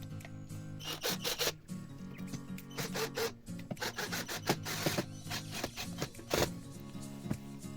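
Bolt being screwed in by hand while assembling a Vitals electric drill, giving close, dry rubbing and rasping metal scrapes in short irregular bursts with a low steady hum underneath.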